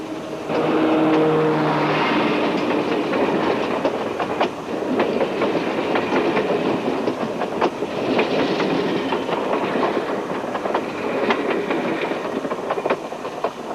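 Train running along rails, a steady rumbling roll with rhythmic clicks from the wheels, loud and continuous throughout with no voices.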